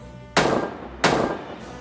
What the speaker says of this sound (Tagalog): nakarinig sila ng 2 malalakas na putok ng baril